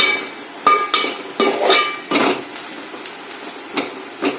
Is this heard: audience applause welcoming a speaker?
no